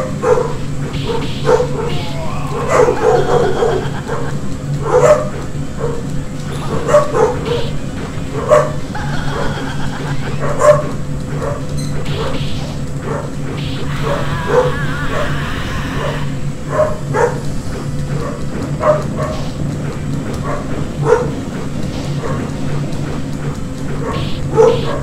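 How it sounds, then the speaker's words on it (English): Several dogs barking and yipping continuously in the background, rapid sharp barks with whimpers over a steady low hum. "Dogs are going batshit crazy in the background."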